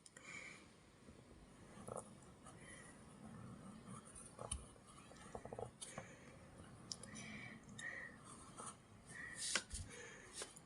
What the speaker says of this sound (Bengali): আমরা বর্ণগুলো পারি কিনা সেটা এখন আমরা লিখে চেষ্টা করব।